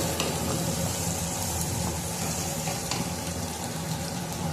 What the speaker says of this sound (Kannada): ಈರುಳ್ಳಿ ಎಲ್ಲ ಸೇರಿಸ್ಕೊಂಡು ಇದನ್ನು ಫ್ರೈ ಮಾಡ್ಕೊತಾ ಇದ್ದೀನಿ. ಗೋಲ್ಡನ್ ಬ್ರೌನ್ ಕಲರ್ ಬರಲಿ ಇದು.